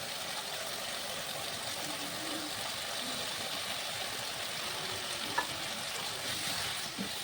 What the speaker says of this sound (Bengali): মশলার সঙ্গে আলুটা ভালো করে কষিয়ে নেব।